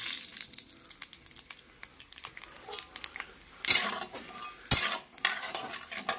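Whole spices, bay leaf, dried chili, panch phoron and cumin, sizzle and crackle in a hot wok for khichuri, with scraping stirs and two louder clattering bursts near the end.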